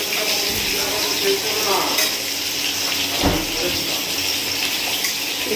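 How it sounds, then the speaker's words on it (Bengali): Onions hiss and sizzle steadily in a pan, a constant frying noise with faint clatter and a voice now and then. "পেঁয়াজটা মোটামুটি ভাজা ভাজা হচ্ছে বেশি কড়া করে ভাজবো না"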